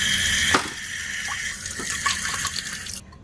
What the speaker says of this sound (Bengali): এটাকে ধুতে হবে। ধুলে পরে টক যেটা থাকবে না সেটা বেরিয়ে যাবে।